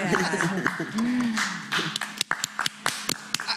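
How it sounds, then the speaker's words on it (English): A small group at a lung cancer patient roundtable gives a short round of applause: scattered, uneven claps close by, mixed with voices talking over them and fading into separate taps. "Get a round of applause"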